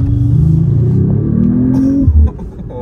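Synthetic engine sound of a Mercedes-AMG CLE 53 piped through the cabin speakers, a low rumbling drone that rises and swells like revving, then drops off sharply near the end, with no talking.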